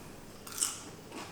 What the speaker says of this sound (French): Vous entendez au micro? Elles croustillent.